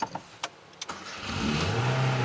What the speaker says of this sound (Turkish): araba emin olun ki neredeyse aylardır yatıyor ama hala tek marş hala tek marş yani